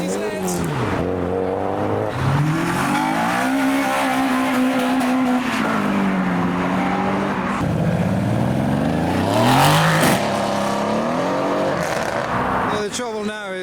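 Japanese cars leaving a car show, among them a Lexus IS200, a second-generation MX-5 and a 350Z, rev and accelerate hard with rising and falling engine notes and gear changes, loud and close, over crowd noise.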